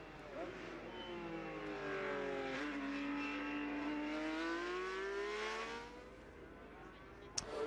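A historic Alpine race car, number 52, passes at the Le Mans Classic finish, its engine rising and falling in a long sweeping whine of revs, moderately distant, with commentators talking over it.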